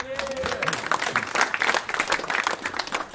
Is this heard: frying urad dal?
no